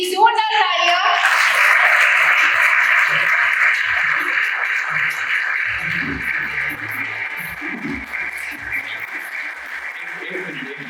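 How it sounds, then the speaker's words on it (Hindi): Audience applause welcomes Sony Pictures Networks India executives at a Taarak Mehta Ka Ooltah Chashmah 18-year celebration. Loud, dense clapping fills the hall, holding steady before slowly thinning out, with background voices and music mixed in. "जोरदार तालियां।"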